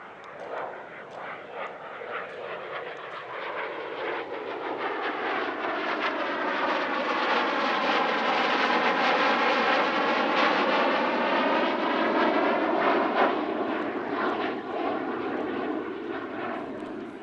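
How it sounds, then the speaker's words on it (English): A Polish-built Lim 2, a single-seat MiG-15 jet fighter, passes at an airshow as a roar that swells steadily to a loud, rumbling peak mid-pass and then begins to fade, heard alone. "Here's Europe's only airworthy single-seat MiG-15, well, technically a Polish-built Lim 2."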